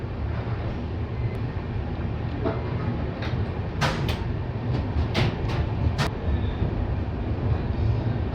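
The Sealdah–Puri Duronto Express, sleeper class, rolls along after leaving Bhubaneswar station with a steady low rumble, punctuated by several sharp metallic clanks and rattles.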